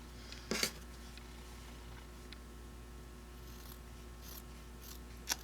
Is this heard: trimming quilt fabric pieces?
yes